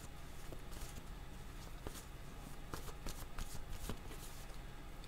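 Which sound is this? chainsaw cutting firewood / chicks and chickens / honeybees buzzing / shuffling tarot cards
shuffling tarot cards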